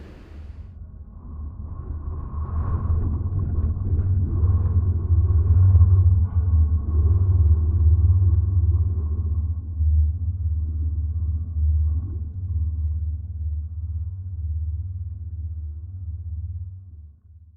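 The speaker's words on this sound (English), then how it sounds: "Even these huge steel gates, which seem really solid, can resonate beautifully in a strong wind." Huge steel gates resonating in strong wind outdoors, a deep, steady droning rumble with slow swells that holds for over fifteen seconds, with no voices.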